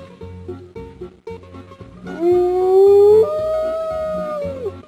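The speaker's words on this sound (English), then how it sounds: "Wolves howl to keep in touch with other wolves in their pack, to show excitement before a hunt, or to find a mate." Wolves howl in a video game: one long, rising then falling howl joins a second, higher voice. It comes in loud over quieter background music with soft tones.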